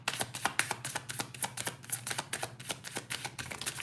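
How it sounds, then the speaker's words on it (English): Tarot cards are shuffled by hand in a quick run of crisp riffling flicks and soft slaps, close and fairly quiet, with a faint low hum underneath and no talking. "One more shuffle."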